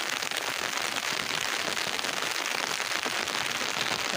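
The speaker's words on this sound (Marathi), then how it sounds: "बापरे पाऊस तर वाढतच आहे" Heavy rain falls continuously, a loud crackling patter of drops hitting nearby surfaces throughout.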